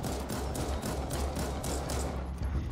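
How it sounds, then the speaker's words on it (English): Repeated pistol shots from Resident Evil Re:Verse, a run of punchy reports at a steady rhythm over a dense, loud game mix, with no voice over the shots. "There's something about the sound of this pistol that makes me like, oh my god, this looks so cool."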